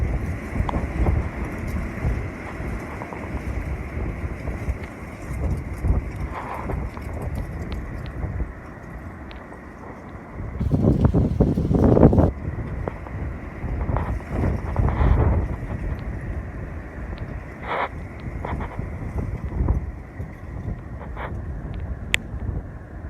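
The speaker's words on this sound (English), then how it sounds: "We'll do a few more wind gusts and then we'll close the video" Strong gusts of wind during a very windy night under a high wind warning buffet the microphone in surging bursts, swelling loudly around the middle before easing into a lower, rustling roar.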